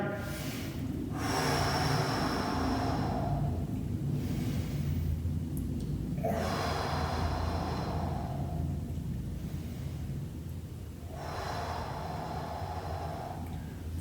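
Deep, slow breaths drawn in and let out during a guided breathing exercise at a spa, long airy inhalations swelling and fading in a steady cycle, close and unhurried with no talking.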